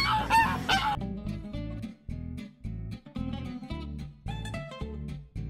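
Geese and ducks honk repeatedly at close range, a loud burst of overlapping calls at the start followed by steady, rhythmic honks.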